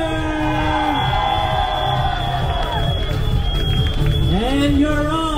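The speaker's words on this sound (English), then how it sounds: "One big cheer." A crowd cheers and whoops at the Purple Parade community walk in Singapore, a loud, sustained roar of voices with shouts rising near the end while an announcer talks over it.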